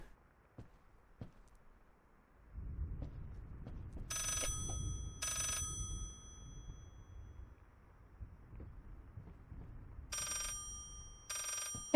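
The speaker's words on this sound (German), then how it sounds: "Nein, ich will diesmal ans Telefon gehen können." An old-fashioned telephone in the horror game Layers of Fear rings in two pairs of bright metallic bell bursts, each about a second long, over a quiet low rumbling ambience with occasional faint thuds.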